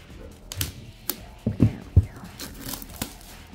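Scissors cut into the packaging of a Konami Yu-Gi-Oh! 25th Anniversary Dueling Heroes tin, giving a series of sharp, close snips and crinkling plastic-like rustles at irregular intervals.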